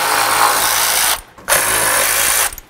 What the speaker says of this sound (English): you're going to remove your mounting bolts with a 10mm